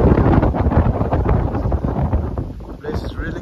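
Heavy wind buffets the microphone in low, rumbling gusts outdoors in a hill village near Kohima, Nagaland, with a brief faint higher tone near the end.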